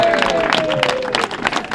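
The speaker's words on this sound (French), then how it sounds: "S'il vous plaît, je vous demande d'applaudir Éric Pliez." A crowd applauds at a left-wing political rally for the 2026 Paris municipal elections, with broad, steady clapping that fills the space and loud voices mixed in.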